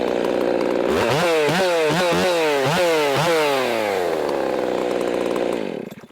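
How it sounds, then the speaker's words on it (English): A Jonsered 2165 chainsaw with an eight-pin sprocket runs loud and close. It revs up and down repeatedly in quick throttle blips, then settles to a steady high buzz before cutting out, with no talk. "we're going to get the Jonsered 2165, built by me"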